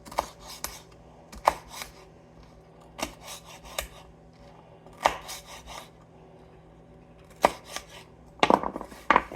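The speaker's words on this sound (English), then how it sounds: "So I'm going to cut up the peppers" Peppers being chopped for a fermented salsa, a knife striking a cutting board in irregular sharp close chops and short bursts, with a quick flurry of cuts near the end, no talking.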